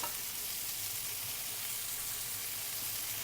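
Pork chops fry steadily in a pan, giving off a dense, even sizzle. The crackle stays constant and close, with no pauses and no voices.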